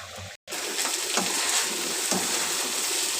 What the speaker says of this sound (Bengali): তারপরে আমি এদিক দিয়ে পোলাওর জন্য তেলটা গরম করে নিয়েছি। এখানে দিয়ে দেব পেঁয়াজ।